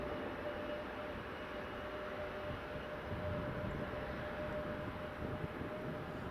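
A steady broadband roar of an Airbus A321neo landing at Edinburgh Airport with reverse thrust, a fairly even, distant-sounding engine rumble that holds at a constant level throughout with no talk.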